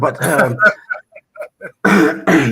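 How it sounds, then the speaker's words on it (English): A man clears his throat in a few short rough bursts between stretches of close conversational speech, with other voices talking around it. "let me clear my throat from that joint that I was smoking"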